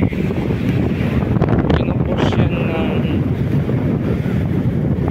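Strong southwest monsoon wind on Boracay beach, buffeting the microphone in a steady, loud roar with surf rumbling beneath and a voice speaking over it.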